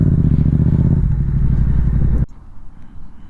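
Stunt motorcycle ridden across a street, engine droning loud and close with a rattling clatter, then cutting off abruptly partway through, leaving faint background noise.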